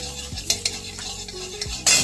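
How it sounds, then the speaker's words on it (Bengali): Chopped garlic stirred in a little hot oil in a wok, with a close, steady sizzle broken by a few sharp scrapes and taps of the spatula against the metal, ending in a louder hiss. "কড়াই অল্প একটু তেল দেবো অল্প একটুখানি তেল দিলাম একটু অল্প একটু রসুন কুচি দিলাম দিয়ে নেড়ে ঝেড়ে নিলাম"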